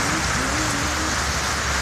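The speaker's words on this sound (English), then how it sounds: "It's raining pretty good." Steady rain falls around a family camping on a Utah road trip, a dense continuous patter with a faint low rumble underneath, loud and close throughout with no voices.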